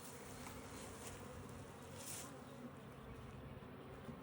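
A dense, continuous hum of many honeybees buzzing up close on comb, steady and droning with no talking.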